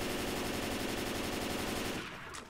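Rapid automatic gunfire in the video game Left 4 Dead 2, a loud, steady burst of evenly spaced shots lasting about two seconds before cutting off, with no talking.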